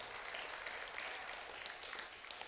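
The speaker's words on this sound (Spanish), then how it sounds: "denle un aplauso a nuestro Dios" Continuous applause from a church congregation during a sermon, a dense, even patter of many hands sounding somewhat distant and fairly quiet throughout.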